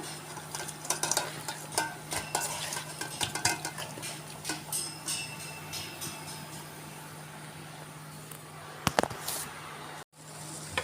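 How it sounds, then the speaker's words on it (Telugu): Fish pieces are mixed by hand with a masala marinade in a dish, giving a run of close, quiet clinks, taps and squelchy rubs that cluster early and thin out, with a brief knock near the end. "ఇప్పుడు బాగా మొత్తం ముక్కలకు పట్టేలాగా కలిపి ఒక 5 నిమిషాలు 10 నిమిషాలు నానబెట్టుకుందాము."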